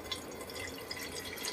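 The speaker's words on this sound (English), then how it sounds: "take and just run about 10 ounces of water through this thing" Water trickles and drips steadily through a Chemex paper filter during a pre-rinse pour, a soft continuous splashing with a few brighter drops, with no talk.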